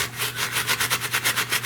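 A small hand brush scrubs back and forth over ruined, pet-stained carpet fibers in quick, even rhythmic strokes, close and fairly loud with no voices.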